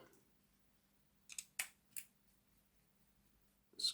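A few small sharp clicks and ticks, screws being undone on the keeper plate of a Hornby Peckett B2 model locomotive, sound close and quiet, spaced irregularly over a near-silent background.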